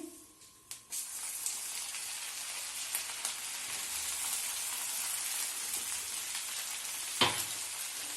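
Cumin and crushed ginger hit hot ghee and butter for a dhaba-style dal makhani, setting off a loud, steady sizzle right after a sharp start, with a brief utensil clatter near the end and no talking.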